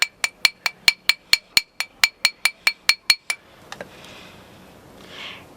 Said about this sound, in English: you can also hammer the sides, so it kind of flattens it down